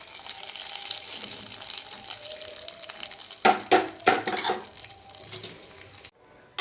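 Water from rinsing a blender jar poured into a pot of dry prawn curry with drumstick and mango, a gentle trickle that turns into a few louder gushing splashes before stopping abruptly, close and without speech.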